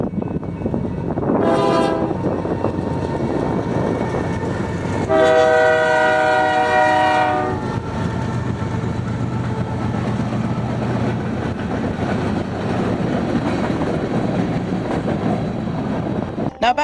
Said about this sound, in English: get a horn sample of BNSF 968